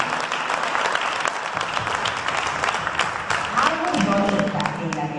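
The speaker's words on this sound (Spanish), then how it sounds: "Un gran aplauso para Jorge Millán." Audience applause for a tribute honoree at an event in Tolosa, steady, fairly close clapping throughout, with voices starting to talk over it near the end.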